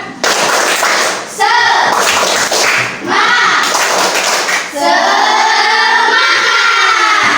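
A classroom of students performs the rhythmic 'tepuk semangat' clapping cheer, bursts of sharp claps in a patterned beat mixed with children's voices chanting along, close and loud.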